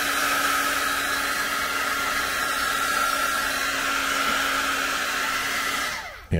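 A hair dryer blows steadily and loudly over a wet watercolor painting of a shark underwater, a constant whooshing hum that runs unbroken until it cuts off abruptly at the end.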